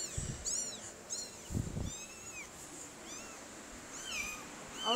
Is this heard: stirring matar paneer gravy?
no